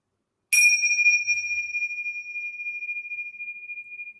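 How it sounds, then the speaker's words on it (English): A single bright bell struck to open a children's story-time yoga class, ringing out with a long, clear, sustained tone that slowly fades over several seconds, close and alone. "We'll ring our bells to begin class."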